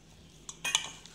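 A utensil stirs and scrapes through mashed boiled potato dough mixed with grated vegetables for cheese balls, giving a few short, soft clinks and scrapes against a bowl, close and quiet, with no talk.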